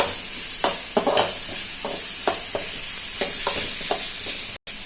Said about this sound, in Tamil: இஞ்சி பூண்டு பேஸ்ட் நல்லா போட்டு இந்த மாதிரி வதக்கிடணும்.